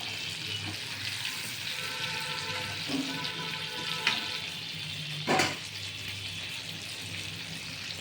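Bottle gourd kofta balls fry in hot oil in a wok, a steady, soft sizzle running throughout with a couple of brief clinks or stirs.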